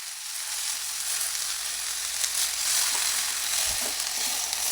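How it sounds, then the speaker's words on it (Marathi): Fenugreek leaves sizzle in hot oil with cumin seeds and turmeric, a steady bright crackling hiss throughout with a soft clink or stir near the end; no one speaks. "हळद अशी छान परतली की त्याच्यात मेथीची भाजी टाकायची"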